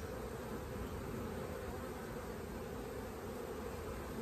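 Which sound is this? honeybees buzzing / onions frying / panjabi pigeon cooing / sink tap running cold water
honeybees buzzing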